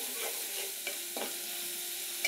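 Ground spices frying down in a pan while a Bengali rui fish curry with winter broad beans and aubergine is cooked, a soft steady sizzle with a few light stirring scrapes and clicks, close and fairly quiet.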